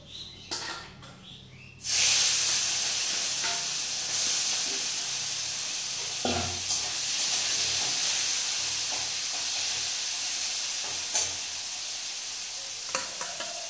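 Masala sizzles hard in a hot, smoking kadai, a loud, steady frying hiss that starts abruptly after a brief quiet opening and continues with small crackles and stirring bumps.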